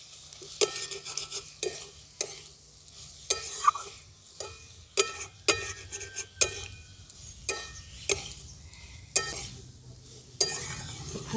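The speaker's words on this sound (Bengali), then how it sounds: "এই ফুলটা আমি এই সবজিগুলোর সঙ্গে ভালো করে মিশিয়ে দিচ্ছি।" Drumstick flowers and vegetables are stirred in a pan with a spoon, making repeated sharp scraping knocks at an irregular rhythm over a soft low sizzle, close and fairly quiet, with no voices.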